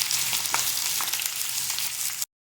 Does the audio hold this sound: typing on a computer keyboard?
no